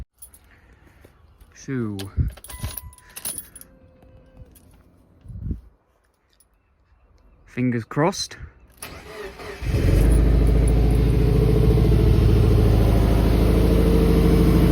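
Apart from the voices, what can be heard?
Subaru car engine being started with keys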